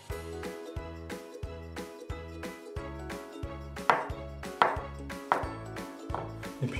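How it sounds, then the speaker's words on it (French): Vegetables being sliced into thin strips with a knife produce a few sharp, evenly spaced cuts on a board, faint beneath steady background music, with no voices. "on va tout simplement en faire des lamelles assez fines"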